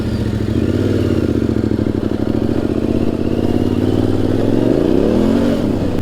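A motorcycle pulls away as the clutch is let out while the throttle is opened. The engine note is loud and close and runs steady, then dips and climbs in pitch near the end.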